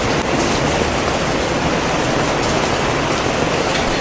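Heavy late-night rain falls over Connaught Place and India Gate in Delhi, a dense, loud, unbroken roar of downpour that holds steady throughout, with no voices.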